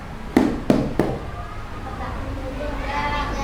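Three crisp raps on a classroom table land in quick, even succession, then fade into low room noise as voices murmur in the background.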